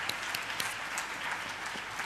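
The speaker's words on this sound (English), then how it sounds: "Another round of applause, ladies and gentlemen" Audience applause at a campus community safety programme launch at the University of KwaZulu-Natal, a steady patter of many hands clapping in a hall, moderately loud and sustained without speech.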